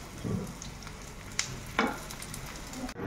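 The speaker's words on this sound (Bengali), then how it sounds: "এই পেঁয়াজটা বেরেস্তা বানানোর জন্য ভাজছি, তাই জন্য পেঁয়াজটা ভালো করে ভেজে লাল করে কড়া থেকে তুলে নিচ্ছি।" Chopped onions fry in oil in a wok, a low steady sizzle marked by a few sharp spatters and clinks over about three seconds.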